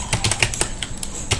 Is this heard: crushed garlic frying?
no